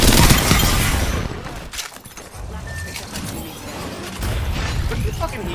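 Rapid gunfire bursts from the video game Apex Legends fill the clip, loud and dense, with brief pauses and a voice talking over the shooting.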